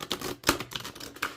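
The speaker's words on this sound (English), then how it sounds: "you guys know I'm practicing here to get the riffle shuffle down" An oracle card deck is riffle shuffled close up, giving a quick run of crisp, flapping card clicks with one louder snap in the middle.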